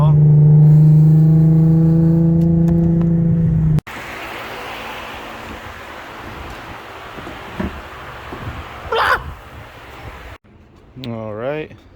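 Revving of a VQ engine in a Nissan 350z with a VHR swap: a loud steady drone at first, then it cuts off, leaving a quieter rumble with brief spikes and a short rising rev near the end.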